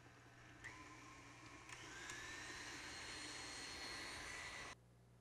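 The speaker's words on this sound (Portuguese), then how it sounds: "Eu vou começar a minha massa de Red Velvet batendo ovos com açúcar até que dobrem de volume" Electric mixer beating 100 grams of eggs with 280 grams of refined sugar for a red velvet batter. A steady whirring motor hum rises in speed partway through, holds, then cuts off near the end.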